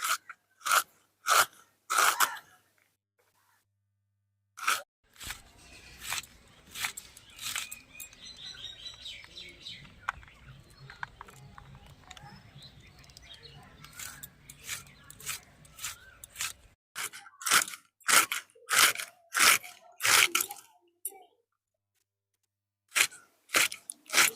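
A knife slices through crisp purple-and-white cabbage in quick bursts of loud, crunchy cuts. A quieter rustling stretch in the middle separates the bursts, and there is no speech.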